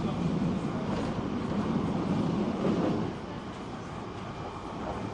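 Steady low rumble and rolling rail noise of a Manchester Metrolink tram moving along its tracks, continuous throughout and easing slightly partway through.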